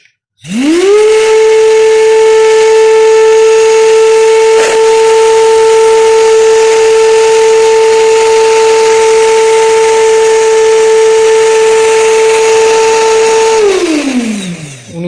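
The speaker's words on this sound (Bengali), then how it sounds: "মারাত্মক স্পিডের একটা মোটর" A DC 775 motor driven at 19 volts spins up fast into a loud, steady high-pitched whine that holds for about thirteen seconds, then winds down smoothly at the end.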